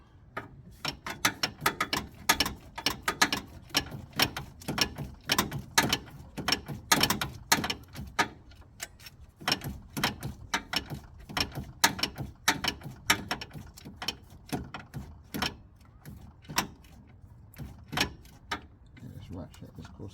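Repeated quick clicks of a ratchet tightening a bolt during an alternator replacement on a Nissan Qashqai, close and loud in irregular bursts with pauses, and someone talks at times.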